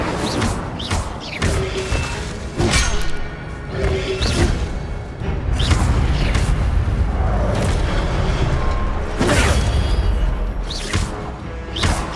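Incendio fire spell cast in Hogwarts Legacy, heard as a run of loud, booming bursts with crashing impacts and a sustained roaring rumble, several blasts spaced across the stretch.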